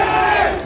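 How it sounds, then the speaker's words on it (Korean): A crowd at a political rally cheers and shouts in one loud, dense burst, a short stretch of roaring voices with no clear clapping pattern. "다시 한번 큰 박수 부탁드립니다."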